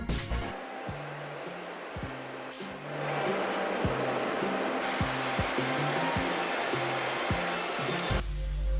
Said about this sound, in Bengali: আরেকটি ডাবিং মেশিনে তুলাগুলোকে প্রেসার দিয়ে চেপটা করে শীটে তৈরি করা হয়।